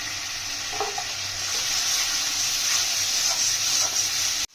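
Spice masala stir-fried in hot oil for chicken kosha, with garam masala powder, coriander, cumin, turmeric and chili powder: a steady, close sizzle and hiss runs throughout, with occasional stirring scrapes, then cuts off abruptly at the end.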